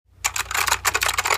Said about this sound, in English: Here's the clickiness of these keys.